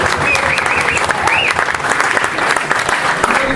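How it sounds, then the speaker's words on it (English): A crowd gathered outdoors by the river gives the boatmen and ladies a round of applause, steady, close clapping throughout with a few voices talking over it. "So would we give our boatmen and ladies a round of applause?"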